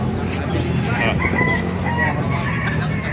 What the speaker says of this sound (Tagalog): Maganda manok yan.